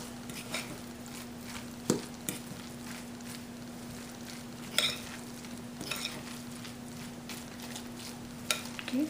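Ground beef kheema is stirred in a pan, with a faint, soft scraping of a spoon over a quiet sizzle and a few sharper clinks of utensil against metal scattered through.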